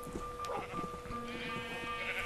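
Sheep in a Minecraft game bleat a few times in short wavering calls over soft background game sounds, moderately close and without talk.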